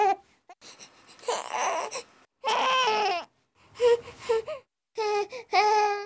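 A baby cries in short, broken wailing bursts separated by brief gasps and pauses, close and loud, with a few whimpering, babbling notes mixed in.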